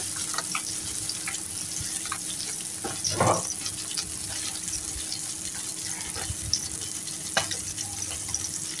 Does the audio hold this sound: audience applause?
no